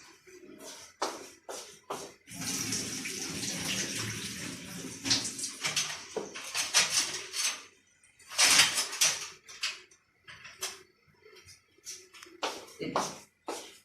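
Water poured and splashing off one kilogram of soaked rice for a Pakistani biryani, in irregular bursts of running, gushing water with pauses and some shuffling handling noise between.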